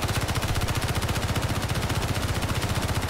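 Turret gunfire in the video game Escape from Mars, a steady rapid automatic stream of shots at an even rhythm, loud and close, with no talk over it.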